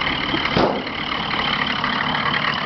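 A snowbound Ram 3500 single-rear-wheel truck with a frozen alternator runs with a steady, rough engine drone, broken by one sharp burst just after the start. No one speaks.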